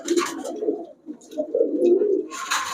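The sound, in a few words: Pakistani high-flyer Giribaz pigeons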